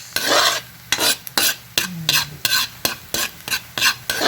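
Garlic toasting in cooking oil that is not yet hot, with a stirring spatula scraping the pan in repeated bursts over a low sizzle, close and fairly loud with no talk.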